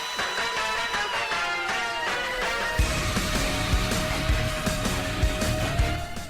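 Wrestling entrance music plays loud and steady, a dense band with sustained melodic lines, heavy drums and bass coming in strongly after about three seconds, no voices.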